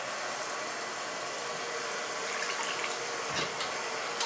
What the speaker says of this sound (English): Getting my water down in my sink here to warm up a little bit.